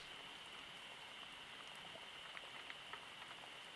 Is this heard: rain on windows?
yes